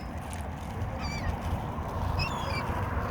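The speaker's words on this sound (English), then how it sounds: "You got geese on your right hand side." Geese honking near water, a few short nasal honks rising over a steady outdoor background rumble, moderately distant, with no one speaking.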